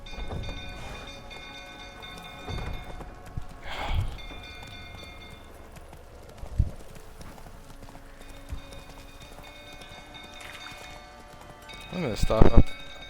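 A horse's hooves clip-clop in the video game Witcher 3, coming in irregular bursts amid game music, light rain-like ambience and occasional voices.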